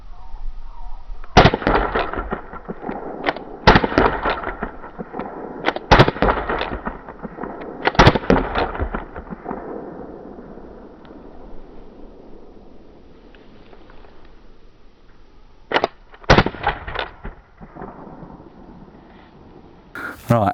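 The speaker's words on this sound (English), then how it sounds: "I'm going to put a couple more rounds into the box over there." An Umarex HDR .50 home-defense revolver fires rounds into a nearby box, with the gas running low: about seven sharp, loud cracks, some single and some in quick pairs, with people talking between shots.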